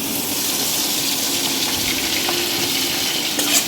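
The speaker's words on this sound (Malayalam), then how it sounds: "തിളച്ച എണ്ണയിരിക്കാണ് കേട്ടോ ബീഫ് ഇടുന്നത്. എന്നിട്ട് നന്നായി ഇത് വറുത്തെടുക്കാം." Beef pieces frying in boiling oil give a steady, loud sizzle and hiss throughout, with a faint clink near the end.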